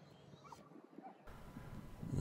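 A retriever gives a few faint, high whimpers outdoors by the Helford River in Cornwall, with gusty wind and low background noise rising toward the end.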